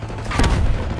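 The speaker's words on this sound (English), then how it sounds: "Tossing concussion." A concussion grenade in Call of Duty: Black Ops 6 multiplayer goes off as a single loud, muffled boom with a short rumbling tail.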